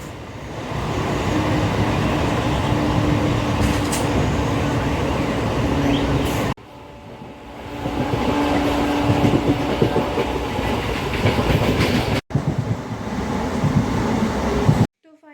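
A train rumbles along a railway platform with loud, steady rolling clatter that drops briefly, then resumes before cutting off abruptly.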